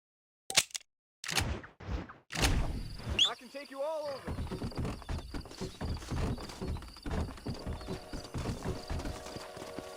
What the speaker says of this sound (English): O cavalo desceu a escadinha também, mano